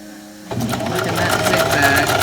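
A home sewing machine runs a zigzag seam on a newborn onesie, starting abruptly after a short quiet lead-in and then humming steadily with fast rhythmic needle strokes, close and clear, while a person talks over it.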